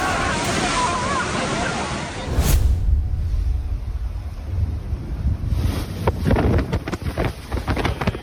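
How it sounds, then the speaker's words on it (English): Massive storm surge waves crash onto land amid strong wind, roaring turbulent water and heavy gusts buffeting the microphone throughout, with a louder surge partway through. "We're talking serious storm surge. The waves are massive, coming right up onto the land"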